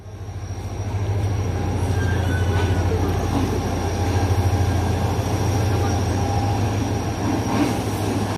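A passenger train at Rohri rumbles loudly and continuously as locomotive GMU 15 4816 arrives, wheels clattering and squealing faintly over the rails.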